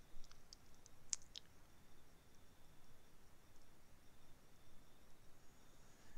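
A computer mouse clicks a couple of times in quick succession over a faint, steady background hiss while someone works in the Arma 3 editor.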